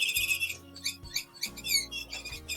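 Bird-in-a-cage cat toy giving off a rapid series of high, squeaky electronic chirps in short bursts, together with some low thumps and handling noise, fairly faint and close.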